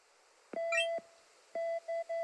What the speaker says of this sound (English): we're getting a cell phone call